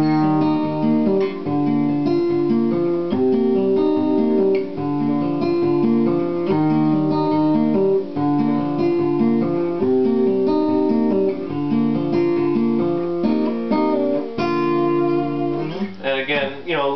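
Acoustic guitar plays a song in time, with a steady fingerpicked pattern of rolling chords that continues for the whole stretch. A quick strum flourish closes it, and no voices are heard.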